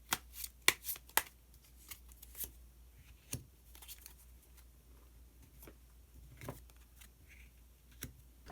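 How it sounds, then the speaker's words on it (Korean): Tarot cards shuffled and drawn from a deck, giving a series of crisp, close paper flicks and snaps, dense at first and then sparser, quiet, with no talking. "마지막으로 히든 카드 한 장 더 뽑아보도록 하겠습니다"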